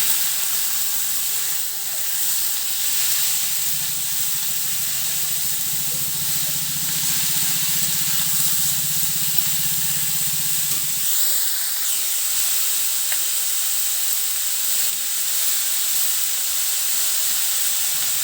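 Small puti fish fry and are stirred in a hot pan for a sour hog-plum curry, giving a loud, steady sizzling hiss that shifts in texture partway through as the fish is turned.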